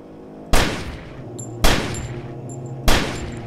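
Three loud, sharp gunshots fired about a second apart in the video game Only If, each cracking hard and then trailing off into a lingering low rumble, with no talking.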